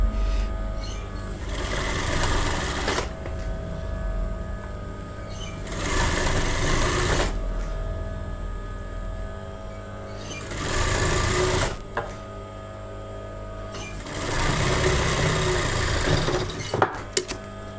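A sewing machine stitches the collar of a blouse in four long bursts of steady, close running whir, separated by short pauses.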